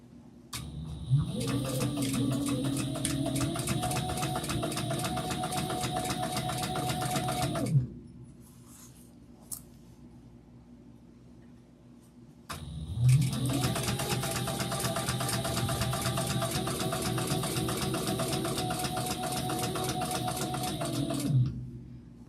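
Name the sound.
sewing machine stitching a tote bag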